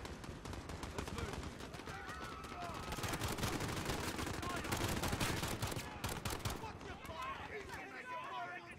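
Sustained gunfire in the modern military shooter Call of Duty: Modern Warfare, rapid automatic bursts rattling loudly and almost without pause, with voices talking underneath.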